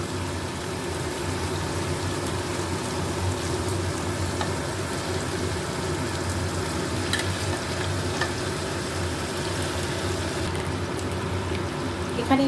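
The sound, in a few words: meat added to the pan, frying for pepper chicken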